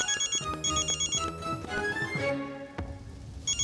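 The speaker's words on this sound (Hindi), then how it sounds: "ये दक्कू भाई क्यों फोन कर रहे हैं?" A phone ringtone plays a bright electronic melody in repeating phrases, clear and close, with no talking.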